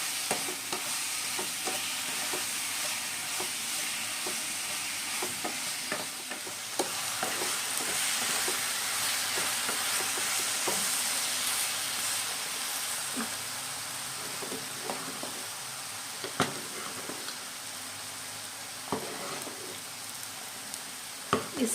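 Sugar is stirred into a banana snack mixture frying in a pan, with a steady sizzle and a spoon scraping in irregular strokes, close and continuous.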